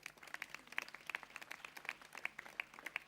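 Scattered, fairly faint applause from an audience at a mayor's New Year address in Croissy-sur-Seine, with distinct individual claps in an irregular rhythm and no speech over it.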